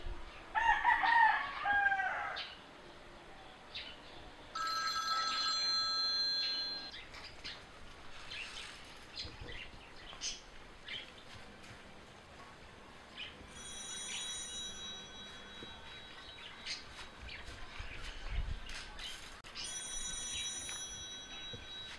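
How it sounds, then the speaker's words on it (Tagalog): A cellphone rings repeatedly with a tonal, rooster-like ringtone in bursts, moderately loud over a busy background of ambient noise, with no talking. "Bakit di mo sinasagot yung cellphone?"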